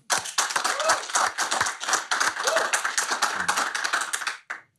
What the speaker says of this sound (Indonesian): Tepuk tangan buat Willy Dozen.